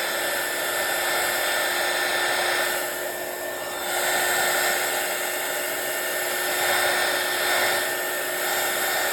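A heat gun blows hot air over a stamped, inked card on a desk: a steady, loud rushing whoosh with a faint electric hum, running continuously and swelling slightly in places.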